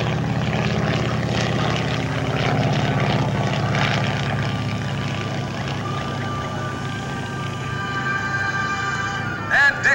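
Fairchild PT-23 primary trainer, a World War II propeller plane, passing at an airshow, its engine drone loud and steady across the whole clip, swelling and fading slightly as it flies by.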